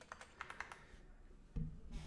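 Quiet typing on a computer keyboard while coding, a quick run of light key taps followed by a pause and a couple of heavier thumps, close by and alone without talk.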